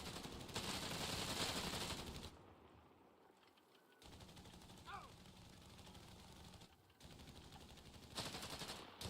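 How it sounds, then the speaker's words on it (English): An enemy machine gun rattles in a World War II strategy game, sustained rapid bursts that rise and fall in loudness, with a short lull in the middle and soldiers' shouts mixed in. "Enemy MG! This is the killing zone! Keep firing!"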